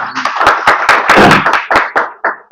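A small audience claps in a loose, uneven burst of separate hand claps at close range, fading in and out over a couple of seconds.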